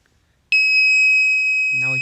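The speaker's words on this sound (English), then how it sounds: "the buzzer and the LED is making a sound, which indicates that there is a heavy rain." A small electronic buzzer on a rain-detection circuit, sounding with an LED as water increases, starts abruptly and holds a steady, piercing high tone, with a voice beginning to speak at the very end.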